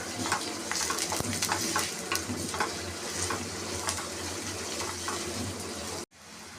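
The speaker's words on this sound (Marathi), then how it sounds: "कांदा छानपैकी आपण गोल्डन ब्राऊन करून घेणार आहोत" Onions fry in a pan until golden brown, a steady close sizzle with faint scraping stirs throughout, cut off by a short break near the end.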